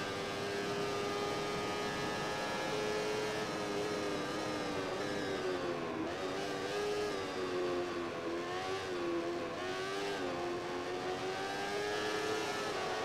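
A motorcycle engine at full throttle in the MotoGP15 video game, a steady high-pitched whine that holds loud and continuous, with pitch rising and dipping slightly as the bike shifts through gears.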